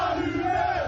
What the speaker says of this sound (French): Allumez, allumez, crie la foule qui caillasse ensuite la voiture.